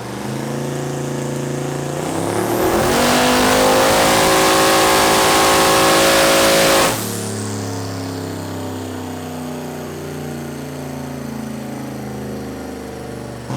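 Car weighing about 3,700 pounds with occupant run hard on a chassis dyno, engine climbing through a loud sustained rev for several seconds before the throttle snaps shut and it settles to a steady idle.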